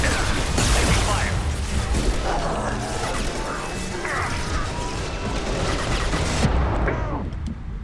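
Rapid gunfire and crashing impacts from a firefight in the video game Mass Effect 2 on Hardcore difficulty, a dense, loud clatter running almost the whole time under other game sounds, cutting off sharply near the end.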